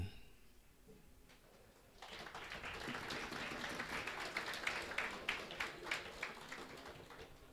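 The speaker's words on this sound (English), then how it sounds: "One more time, a round of applause for Llewellyn." Audience applause at a pitching challenge during a Kasi business workshop in Tlhabane, building from a hush into sustained, moderately distant clapping with individual claps standing out toward the end.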